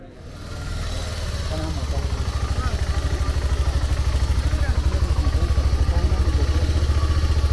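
A motorcycle rolls slowly along a crowded road during the 2021 protests in Colombia, its engine a loud, close, steady low putter that builds slightly and holds an even pulsing rhythm.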